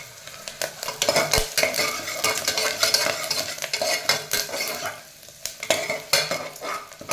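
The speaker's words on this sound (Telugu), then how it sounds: "కొంచెం వేగిన తర్వాత వేగని చూడండి కొంచెం ఇట్లా వేగాలి బాగా" Cumin and black pepper fry in a pan with a lively close sizzle, broken by frequent stirring scrapes and metal utensil clicks against the pan in an uneven rhythm, no talking.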